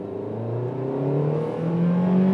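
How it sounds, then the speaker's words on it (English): The 1.5 liter engine of a 2015 Toyota Yaris accelerating from inside the car, a steady hum whose pitch climbs smoothly, dips briefly at a gear change, then rises again, with no voices. "let's just see how much power we can get out of this engine"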